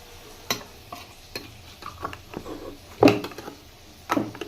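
A spatula scrapes and stirs a spice paste of ginger, cumin and dried red chili in a pan for a bata fish curry with ridge gourd and potato, giving irregular close clinks and strokes over a soft sizzle.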